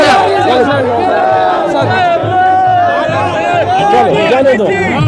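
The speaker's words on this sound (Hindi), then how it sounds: "भीड़ में बात करना बहुत मुश्किल है।" A dense, noisy crowd packs Shastri Chowk in Etawah at an Akhilesh Yadav road show, a continuous loud babble with shouts close by while someone talks over it.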